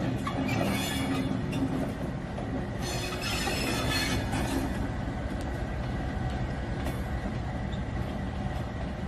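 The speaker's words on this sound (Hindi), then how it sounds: "फिर ये लोकोमोटिव अपना रुख बदलने के लिए जाता है।" A railway locomotive at Kasur station pulls away after uncoupling to change direction, wheels rumbling on the rails with bursts of high squealing, close and loud throughout with no talk.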